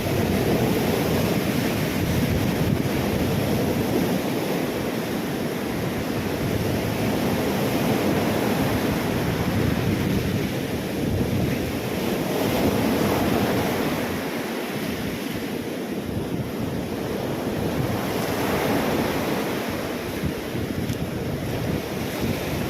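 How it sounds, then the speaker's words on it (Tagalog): Rough storm-driven sea surf crashes continuously during a typhoon, a loud, unbroken roar of breaking waves mixed with heavy wind buffeting the microphone, rising and falling in slow surges with no voices. "Basta may alon talaga, may bagyo talaga."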